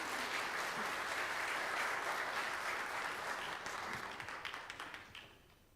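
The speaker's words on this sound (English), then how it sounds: "Can y'all give her a round of applause?" Audience applause after a talk at a gathering, a dense sustained wash of clapping that holds steady for several seconds, then thins into scattered individual claps before fading out.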